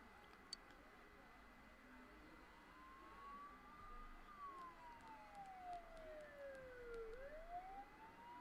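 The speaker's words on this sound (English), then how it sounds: "Don't those sirens sound really close?" A police-style siren in the video game Persona 4 Golden wails faintly in the distance, its pitch rising and falling slowly over a quiet hum and low background rumble.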